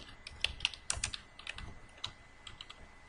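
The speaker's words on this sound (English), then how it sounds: "Here I'm clicking on tab to go to the next cell or next column." Keys tapped on a computer keyboard while entering headings into a Microsoft Word 2016 table, a scattered run of light, close clicks with uneven gaps, no voices.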